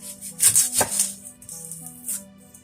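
A knife chops a yellow onion on a cutting board in a series of quick, close, crisp strikes with short pauses between them.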